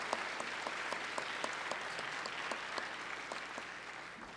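In a state House chamber, a crowd gives a steady round of applause for elementary school students, the scattered claps heard fairly faint and somewhat distant, running evenly without speech.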